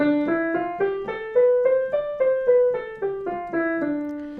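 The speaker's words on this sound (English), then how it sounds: "D Dorian sounds like this." A melodic instrument plays a D Dorian scale of single notes, steadily stepping up and then back down, each note struck clearly and evenly, with no voices.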